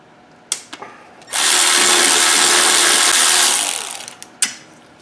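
A power driver spins a Torx T25 bolt out of a Volvo throttle actuator pipe: a few sharp clicks, then a steady high-pitched whirring burst of about two seconds that tapers off, followed by a clack, close up in a quiet space.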